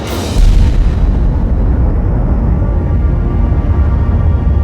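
Hydrogen bomb test explosion in the Pacific, America's first practical H-bomb, a loud sudden blast that settles into a long, deep, continuous rumbling roar.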